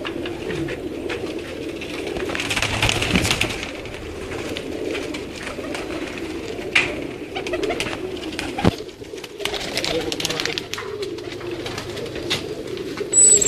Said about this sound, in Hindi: ये जी कुछ कबूतर और हैं।